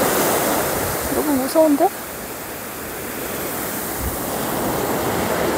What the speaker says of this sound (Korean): 오늘 바람이 센 날인가?